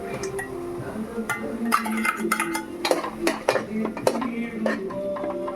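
A spoon stirs masala through fried tomatoes in a metal pan, with busy clinks and scrapes against the pan sides in an irregular rhythm, close and moderately loud over a faint background hum.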